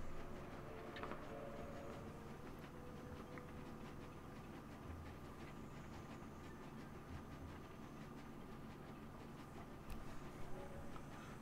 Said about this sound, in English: not going to get tired of the rhythmic sounds of the train.